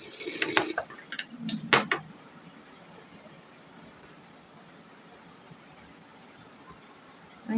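A sewing machine stitches a katori blouse in a couple of short, close mechanical clattering runs, then falls into faint background hiss.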